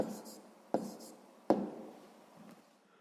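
A pen writes a numeric answer by hand on paper during a sixth-grade math lesson, faint scratching with a few sharp taps, quiet and close, with some low talking.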